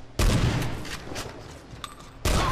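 M1100 shotgun firing slugs in a video game: loud, sharp blasts at the start and near the end, with several fainter shots and reverberant noise in between.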